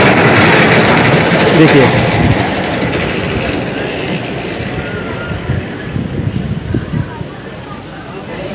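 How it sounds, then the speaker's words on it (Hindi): A small kids' amusement park train ride rolls past at a playland in Karachi, carrying young children, giving a steady rumbling clatter that fades slightly over time, with wind noise and someone talking over it. "ये ट्रेन भी चली, छोटे छोटे बच्चे बैठे इसमें"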